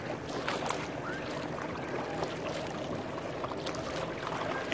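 Steady wash of water and waves around a kayak paddling on a lake where large yachts stir up swells, a continuous broadband splashing rush with light wind, close and unbroken, with no voices.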